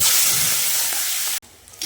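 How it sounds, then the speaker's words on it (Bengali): Tengra fish frying in hot oil make a loud, close, bright hiss of sizzling that cuts off abruptly, leaving a quieter stretch before it resumes. "মাছগুলো ভেজে নেব।"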